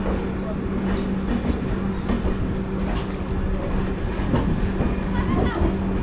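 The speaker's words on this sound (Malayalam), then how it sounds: "വണ്ടി പുറത്തിറങ്ങി കഴിഞ്ഞു." The 12618 Mangala Lakshadweep Express runs from Hazrat Nizamuddin toward Shoranur with a steady, dense rumble and a faint rhythmic clickety-clack of wheels on rail joints, continuous throughout.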